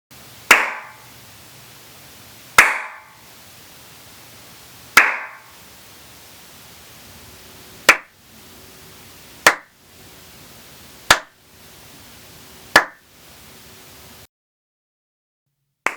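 Seven sharp hand claps in a bare home studio room with no acoustic panels, each spaced a second or two apart and trailing a noticeable ringing echo before fading.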